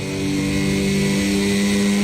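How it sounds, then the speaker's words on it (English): A racing motorcycle engine screams during a race, a loud, sustained high-pitched whine that holds steady and slowly builds in intensity. "You can hear the engine"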